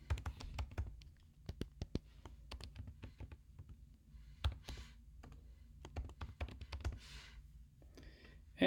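Someone types a name into a conference registration form on a computer keyboard, producing quiet, close key clicks in irregular bursts with short pauses and faint background noise.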